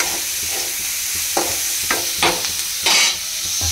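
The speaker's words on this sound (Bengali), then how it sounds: "এখানে এবার আমি গাজর, ক্যাপসিকাম আর একটা ডিম ছিল দিয়ে দেবো, দিয়ে ভালো করে" Carrot, capsicum and egg frying in a pan, a loud continuous sizzle with periodic stirring scrapes and bursts of hiss as the ingredients are turned, close up.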